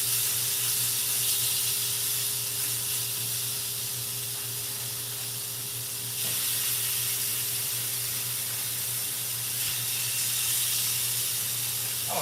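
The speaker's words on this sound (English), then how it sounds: "So if all we hear is sizzle," Marinated chicken tenders sizzle on a grill in a steady, close hiss that runs without pause, with a faint constant hum underneath.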